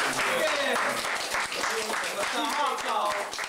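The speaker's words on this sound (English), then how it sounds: "Let's give him a round of applause." An audience at a talk on juicing and health applauds steadily, dense clapping mixed with cheers and voices throughout.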